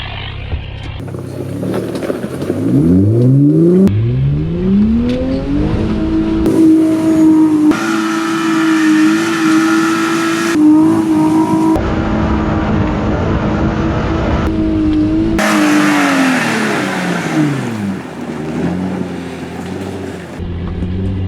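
A Jeep on Nitto tires accelerating hard on an off-road dirt course in Tornado Alley, its engine roaring loud and close, climbing in pitch, holding a sustained high rev, then easing off.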